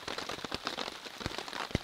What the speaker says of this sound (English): I think the rain is starting to let up.